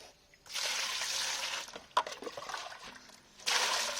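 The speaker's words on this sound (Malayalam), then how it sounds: "കുറച്ച് വെള്ളം ഒഴിയിടാം." Water poured over quail being washed, a steady splashing rush that runs for about a second and a half, breaks into uneven trickles and drips, then surges again near the end.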